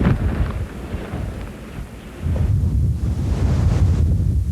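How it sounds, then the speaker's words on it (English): Hurricane Opal battering a Florida beach near Fort Walton Beach: loud, continuous roaring wind buffeting the microphone, mixed with crashing surf, swelling stronger in the second half. "this is a mean, ugly storm"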